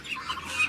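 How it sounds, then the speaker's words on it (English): Young ducks growing in their adult feathers call from inside a cage, a short, close burst of soft clucking, chirpy calls that blend together without pause. "I do have my ducks in here right now"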